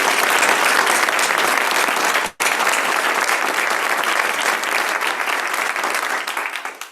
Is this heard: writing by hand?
no